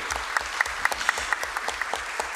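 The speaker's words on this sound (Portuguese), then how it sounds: "Marcos, doutor Marcos Mussafir, uma salva de palmas, por favor." Steady applause from a crowd at a formal ceremony, dense clapping with a few sharper individual claps standing out.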